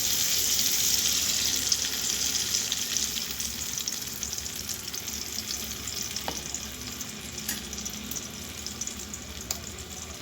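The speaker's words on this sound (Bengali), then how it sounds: "আমার পটলটা ভালো করে ফ্রাই করা হয়ে গেছে।" Pointed gourd (potol) slices frying in a pan give a steady, fairly loud crackling sizzle throughout, with a few faint clinks of a utensil and no voices.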